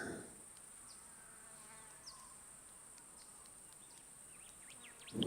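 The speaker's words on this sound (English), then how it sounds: "It's in the buzzing of the black bees up there." Black bees buzz steadily high up near a river confluence, a faint continuous drone with occasional bird chirps and no talking.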